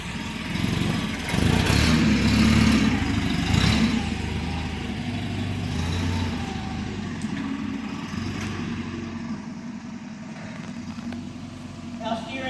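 A forklift drives forward through a figure-eight steering check, its mid-pitched engine droning and revving near at hand, loudest early on and then easing to a steadier hum as it rolls on.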